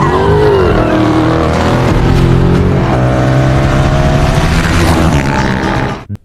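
A car revs hard and accelerates in a chase after a motorbike, a loud, continuous engine roar with rising and shifting pitch that holds for about six seconds before cutting off abruptly.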